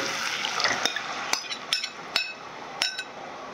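Marinated beef for Loc Lac added to an oiled pan over medium heat, a soft frying hiss broken by several sharp metallic clinks and taps spaced a second or so apart.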